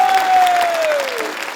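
A crowd applauds for the mayor, a dense, steady wash of clapping that fills the whole moment at close range, with a sustained tone gliding slowly downward beneath it.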